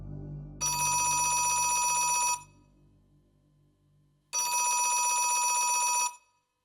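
Telephone bell in a home ringing in two loud, sustained bursts of about two seconds each, separated by a short pause with faint low background sound.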